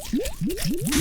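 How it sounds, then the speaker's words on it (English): Orange slime bubbling over dry ice, a run of four gooey squishing pops at a steady rhythm, each rising in pitch like a small wet burble, close and fairly loud with no voices. "Slime is blowing bubbles."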